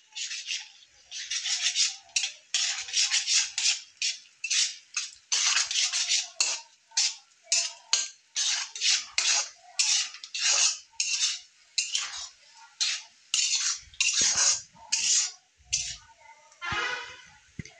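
A spoon scrapes and clinks rhythmically against a bowl while egg batter with turmeric and salt is mixed, a brisk run of repeated strokes close by with no talk.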